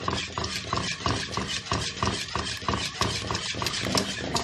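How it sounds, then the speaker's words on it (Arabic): A spoon stirs béchamel sauce in a pot over the stove as it heats toward a boil, giving a steady rhythmic scraping about twice per second, close and fairly quiet. "هستني بقى اقلب فيه لحد ما يبدا يغلي"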